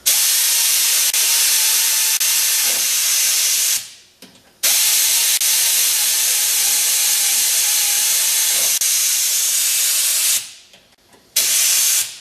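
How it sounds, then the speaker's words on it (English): A pneumatic air impact gun tightens bolts during automotive repair work, giving two long, loud bursts of hissing air, each several seconds, with short pauses between them and no talking. "This is an air gun that has the right torque, so we don't have a problem with stripping the bolts out"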